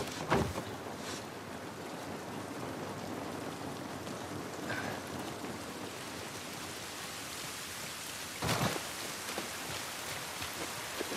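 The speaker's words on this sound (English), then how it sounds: "This rain ain't gonna do us any good." Steady outdoor rain in The Last of Us Part 1 video game, a continuous wash of falling drops and surface patter with a couple of brief louder splashes, no voices.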